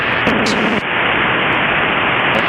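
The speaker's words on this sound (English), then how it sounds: "It adds like a gray static noise." Aircraft radio squelch static in a light sport airplane, a loud steady broadband hiss filling the whole clip, with a brief louder burst near the start before settling into continuous gray noise.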